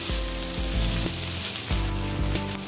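Pieces of fish frying in a pan over a low flame for a fish fry, giving a steady close sizzle with faint popping and no talk.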